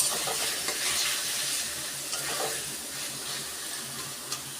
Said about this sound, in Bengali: এই যে খাসির মাংসটা এখন কষাচ্ছি সব মশলা টশলা দিয়ে